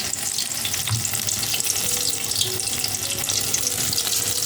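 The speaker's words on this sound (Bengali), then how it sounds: "হালকা আছে সুন্দর করে ভাজা নেওয়া লাগবে তাহলে এত সুন্দর মুচমুচা হবে" Cooked-fish chops frying slowly in oil over low heat, a steady soft sizzle and crackle throughout with no talking.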